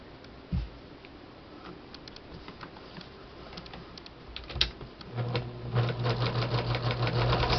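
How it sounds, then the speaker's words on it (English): A sewing machine stitches through the lace and lining of a pouch: quiet, scattered ticking at first, then a steadier, louder mechanical whir and rapid clatter over the last few seconds. "So now I'm sewing through the lining"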